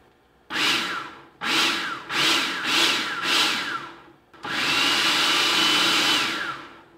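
A food processor pulsing flour for angel food cake: five short whirring bursts in quick succession, then one longer continuous run, loud and close with no talk.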